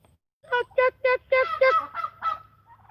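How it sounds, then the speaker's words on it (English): Turkeys on a farm give a close, loud run of about seven honking, yelping calls in quick succession, ending with a fainter trailing note and a low steady hum beneath. "I've been having a ball just sitting out here playing with these turkeys."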